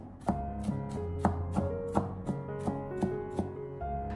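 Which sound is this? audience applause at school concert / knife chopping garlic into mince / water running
knife chopping garlic into mince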